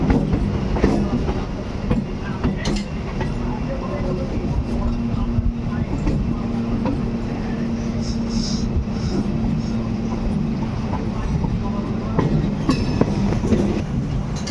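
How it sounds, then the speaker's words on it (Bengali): The Kasimbazar–Azimganj MEMU passenger train pulls away from Kasimbazar, a close, continuous rumble of wheels and carriages with rhythmic clatter and faint squeals, sustained throughout. "ছেড়ে যাচ্ছে কাশিমবাজার আজিমগঞ্জ মেমু প্যাসেঞ্জার ট্রেন সকালে 7:30 নির্ধারিত টাইমে।"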